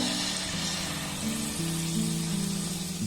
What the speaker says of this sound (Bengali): একইভাবে সবগুলোকে আমি ভেজে নেব